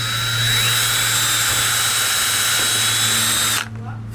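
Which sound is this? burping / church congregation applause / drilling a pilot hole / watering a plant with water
drilling a pilot hole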